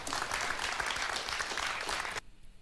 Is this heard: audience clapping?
yes